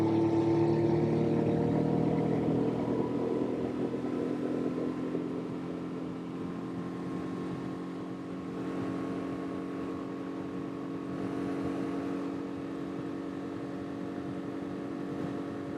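A 30 HP Tohatsu outboard motor pushes a flat-bottom jon boat along, droning steadily at speed with wind and water rush, the engine note holding constant throughout.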